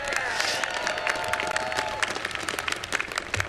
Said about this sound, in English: Let's have a round of applause for the volunteers.